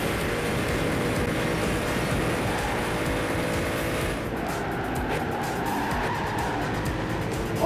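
A Ferrari in the Gran Turismo video game drives at speed with a steady, loud engine roar, and tires squeal and skid toward the end.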